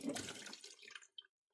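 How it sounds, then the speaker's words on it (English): Water drains from a gas boiler's condensate trap, a faint trickling pour that tapers off into a few small drips before falling silent. "Let the rest of that little bit of water dribble out."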